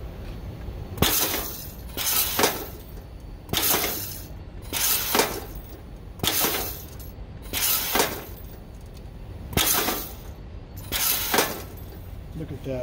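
An Edward Segal 3PGW automatic grommet machine sets grommets into a fold-over hem of 13-ounce material, making a steady run of sharp, loud mechanical clanks and punches about a second apart over a low machine hum.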